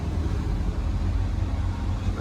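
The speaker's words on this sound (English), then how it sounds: "Showing us that the engine's idling." A 2006 Case CX330 excavator's engine idles in a steady, low, continuous rumble heard up close without notable changes in pitch.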